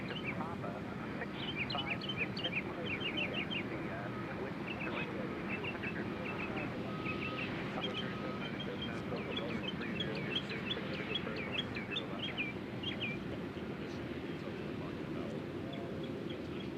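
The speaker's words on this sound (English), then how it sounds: "I don't know where that bird is, or I'd put it on camera, but I don't know where it is. It's probably somewhere near the microphone." A bird calls repeatedly close to the microphone at a Nashville airport, bright chirping phrases over a steady low outdoor rumble.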